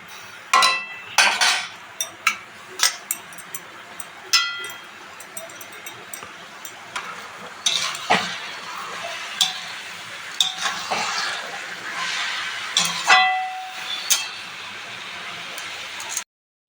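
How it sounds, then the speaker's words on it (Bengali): Grated coconut is stirred in sugar syrup in a pan for palm-coconut pitha, a series of sharp metal scrapes and clinks from a spatula against the pan, repeating every second or so over a soft bubbling sizzle, with no voices. "আমি নারকেলগুলো নেড়ে নেড়ে যতক্ষণ না চিড় আসবে ততক্ষণ আমি নারকেলটা নাড়তে থাকবো"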